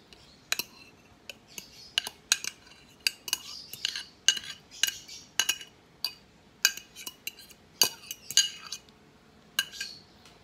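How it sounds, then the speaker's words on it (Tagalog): A utensil scrapes and clinks against a bowl while five mashed bananas are stirred for banana cake, giving a quick irregular run of sharp metallic taps at close range with quiet gaps between strokes. "i-mix na natin yung ating 5 pieces na banana na na-smash na natin"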